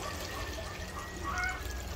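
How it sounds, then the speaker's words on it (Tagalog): Water poured into a pan of marinated pork steak, a steady continuous pour and trickle heard close up throughout, with no talking over it. "Lagyan na po tayo ng"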